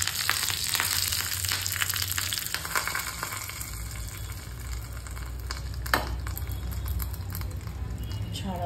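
Curry leaves dropped into hot tempering oil with popped mustard seeds for sambar, with the gas switched off, give a loud, steady, crackling sizzle that slowly settles, a voice faintly present in the background.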